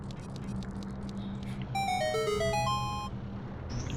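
A door opening in The Legend of Zelda: Ocarina of Time, heard as a bright chiming jingle of rising and falling tones lasting about a second, standing out over a steady low background hum.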